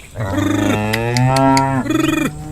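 A cartoon buffalo in a Hindi animated horror story gives one long, loud, resonant moo that swells and falls, heard up close and alone.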